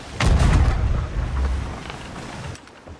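Ship cannon fire in a pirate video game, a heavy low boom followed by a rumbling decay, with a second lighter thump shortly after, close and loud.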